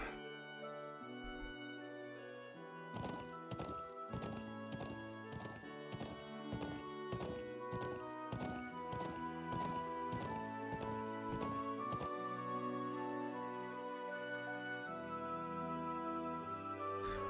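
Rapid rhythmic hoofbeats of a horse at turbo speed in The Legend of Heroes: Trails of Cold Steel clatter over game music, a fast galloping pattern that fades back into the music near the end.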